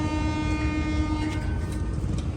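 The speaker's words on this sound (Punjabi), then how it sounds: "ਰੇਲ ਗੱਡੀ ਆ ਰਹੀ ਹੈ" A train rumbles steadily past a railway level crossing with waiting traffic, a sustained horn tone sounding over the low, continuous roar of the passing cars.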